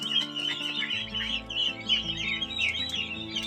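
Chicken chicks on a poultry farm peep in a dense, continuous chorus of overlapping high chirps, with a steady low machine hum running underneath.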